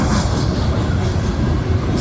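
A CSX GEVO locomotive leading a fast coal train through Woodbine on the Old Main Line, a loud, steady rumble of rolling wagons and wheels on rail close by, with no one speaking.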